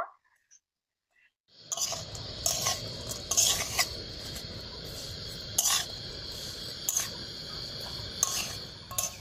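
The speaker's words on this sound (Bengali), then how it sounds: "এবার আমি নারকেল আর গুড়টাকে ভালো করে মিশিয়ে একটা পুর তৈরি করে নেব" A coconut and date-palm jaggery filling for bhapa pitha is mixed in a pan. Silence comes first, then steady soft sizzling with repeated sharp scraping clinks of a utensil against the pan, close by.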